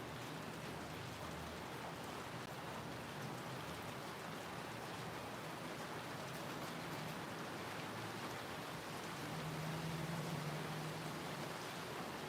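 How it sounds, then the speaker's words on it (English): Steady rain falls during a thunderstorm, a continuous broadband hiss of drops on surfaces with no distinct thunderclaps, holding at an even level throughout with a slight swell near the end. "we've had a little bit of rain on and off today, and we've got a bit now, and thunderstorms"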